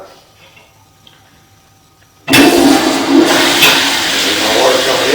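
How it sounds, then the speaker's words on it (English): A toilet at a plumbing job site is flushed: after a couple of seconds of quiet room tone, a sudden loud rushing gush of water starts and keeps roaring steadily close to the microphone. "Flush her one more time."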